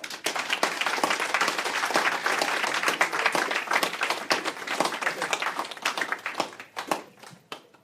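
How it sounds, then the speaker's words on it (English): An audience at a poetry reading applauds in a dense burst of many hands clapping, steady and close, thinning out and fading over the last second or two. "Put a round of applause."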